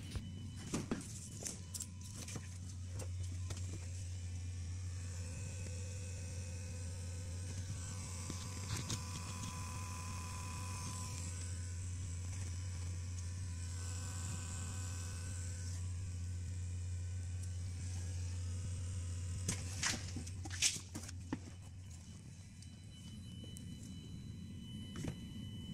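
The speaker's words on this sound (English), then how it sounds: "just listen how the fuel pump is pushing fuel back into the engine" A car's electric fuel pump primes after a new fuel filter is fitted, giving a steady low hum with a faint whine, heard from close by and continuous for the whole stretch, with a few small clicks and knocks.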